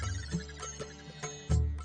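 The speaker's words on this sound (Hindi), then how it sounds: "सोनू ने रिंगटोन में भजन रखा है?" A phone ringtone plays a devotional song, a melodic tune with repeated chiming notes and a steady low drone, alone with no talking.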